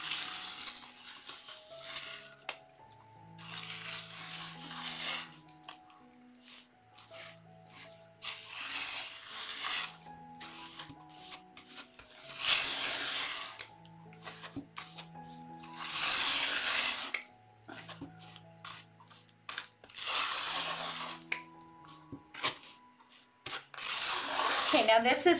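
Wet, gritty scraping and churning of thick fast-set mortar mixed by hand repeats steadily, with low hums and tones underneath throughout.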